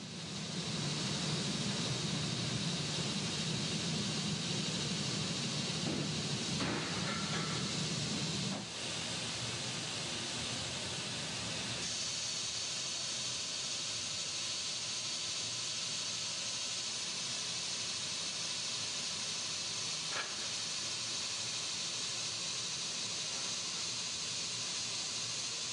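A scuba diving tank being sanded during manufacturing gives off a steady, loud broadband hiss that runs for the whole stretch, with a brief shift in tone partway through and no talking.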